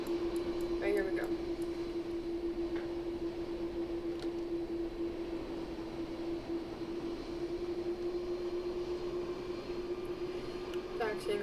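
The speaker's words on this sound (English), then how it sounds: "Taxiing onto the runway here." Simulated UPS 747-400 jet taxiing in a flight simulator game, a steady continuous engine hum with a prominent sustained tone throughout, constant and moderately loud with no breaks.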